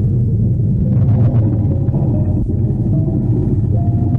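Thunder from a heavy storm in a puppet film rolls on as a loud, continuous low rumble that fills the whole stretch with no voices.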